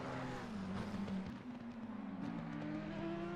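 A McLaren race car engine howls in a racing video game at the Kyalami circuit, a steady high-revving drone with shifting pitch, moderately loud and constant, with no talk.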